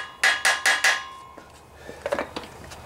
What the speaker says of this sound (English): I'm gonna hammer that sucker into place.